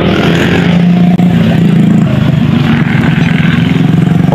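A Yamaha Mio i scooter with a knocking and ticking fault runs close and loud, its engine revving with a steady buzzing drone and a faint rattling pulse.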